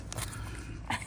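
A dog named Indy, covered in burrs or debris after an outing in the Tuscan countryside in February, makes soft, close shuffling and snuffling sounds with a small yelp-like noise near the end.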